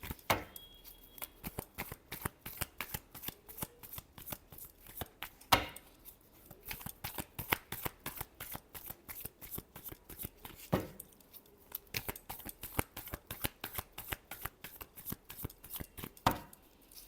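Tarot cards are shuffled by hand in quick crisp bursts of riffling clicks and snaps, repeated in several rounds with brief pauses, close and fairly quiet.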